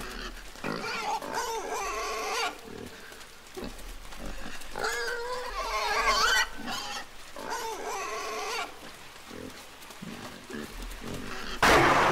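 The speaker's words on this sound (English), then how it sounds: "What is your problem, pig?" A pig in the video game INSIDE grunts and squeals in repeated close, loud bursts, some drawn out and rising, over quiet game ambience.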